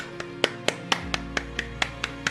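Applause for slot car racers after a Formula 1 digital slot car league race at Monaco, heard as about ten sharp, evenly spaced claps in a steady rhythm, close and fairly loud.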